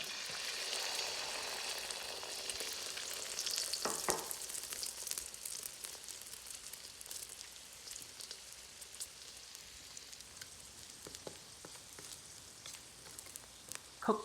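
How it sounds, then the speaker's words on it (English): Batter for shrimp and chicken egg foo young fries in hot oil in a pan, a steady dense crackling sizzle that continues throughout, loudest at the start and easing slightly, with a few scattered pops. "Add the oil into the hot pan. And add the batter in."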